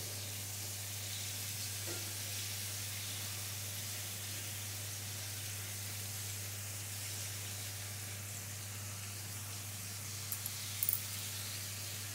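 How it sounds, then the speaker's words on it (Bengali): Chicken pieces frying in oil over lowered heat, a soft continuous sizzle with a constant low hum underneath and a few faint clicks near the end, no voices. "চুলা আঁচ কমিয়ে এটা ভাজবেন যেন ভিতরটাও সুন্দর ভাজা হয়"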